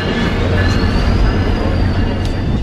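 A loud train rumbling past up close in Toronto, with a steady low roar, rail noise and faint high-pitched wheel squeal throughout.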